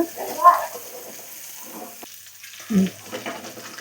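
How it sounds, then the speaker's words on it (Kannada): A soft sizzle of chicken dry roasting in a pan for chicken dry chilli, with a couple of brief stirring scrapes and clatters; fairly quiet and steady. "ಈಗ ಚಿಕನ್ ಎಲ್ಲ ಹಾಕೊಂಡು ಚೆಂದ ಮಾಡಿ ಡ್ರೈ ರೋಸ್ಟ್ ಮಾಡಿಕೊಳ್ಳುವ."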